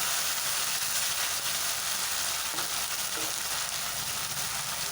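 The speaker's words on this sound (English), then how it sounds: "So then I'll put in 1 teaspoon of ginger garlic paste. Fry this very well." Ginger garlic paste fries with minced mutton for keema in a hot pan, giving a strong, steady sizzle and hiss that fills the whole stretch with no talking.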